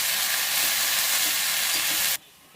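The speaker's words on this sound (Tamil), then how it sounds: "உப்பு சேர்த்துட்டு நல்லா இது வந்து வதக்கிக்கோங்க" Brahmi greens with salt sauté over low flame in a pan, a steady, loud sizzle holding for about two seconds before dropping sharply to quiet.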